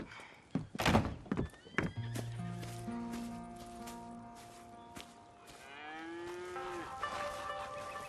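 Cows mooing on a farm in the Red Dead Redemption 2 video game: close, loud bellowing moos at the start, then a thud and softer lowing calls over quiet game ambience.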